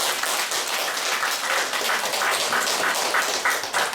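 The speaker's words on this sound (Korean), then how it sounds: "박수로 맞이해 주십시오." A lecture audience claps in steady, continuous applause for several seconds, welcoming a speaker, a dense patter of many hands with no voices over it.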